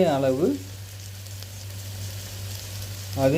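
Herbs, coriander and mint leaves, sautéing in hot onion oil for brinji rice, a steady soft sizzle and crackle of frying throughout, with a brief voice at the start and end.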